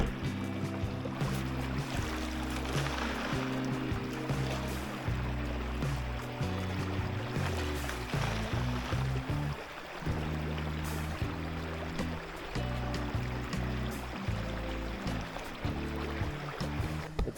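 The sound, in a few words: river water flowing through a sluice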